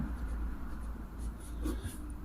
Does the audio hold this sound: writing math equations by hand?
yes